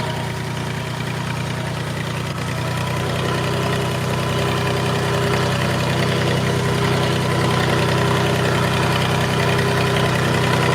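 An old tractor engine idles steadily and loudly up close, a continuous low rumble with a mechanical knock running under it and no talking.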